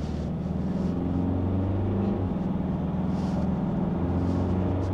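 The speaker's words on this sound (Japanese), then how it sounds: "アクセル踏むとやっぱ結構ちゃんとこうディーゼル感が出てきますね" A 2024 Mitsubishi Triton diesel engine hums steadily from inside the cabin as the pickup accelerates on a public road, with a low continuous drone and road noise and no talking.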